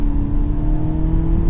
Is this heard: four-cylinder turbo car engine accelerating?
yes